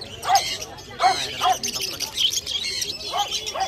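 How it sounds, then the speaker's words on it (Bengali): Many budgerigars chirp in quick, overlapping bursts, a busy close chatter of calls in a bird market shop, with a voice in the background. "এদিকে বদ্রি আছে"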